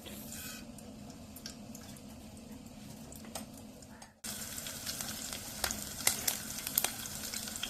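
Mustard seeds splutter in hot oil for kande pohe, a soft crackling sizzle with scattered small pops that grows louder and busier after a brief break, close and faint, with no talk.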